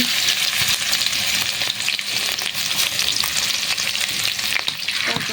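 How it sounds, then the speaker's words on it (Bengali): Whole green chilies and chopped garlic frying in oil for chicken dal bhuna, a loud continuous crackling sizzle close up with occasional stirring, no voices. "তেলটা দেওয়ার পরে দিয়ে দেব অল্প কিছু আস্ত কাঁচামরিচ, দিয়ে দেব রসুন কুচি"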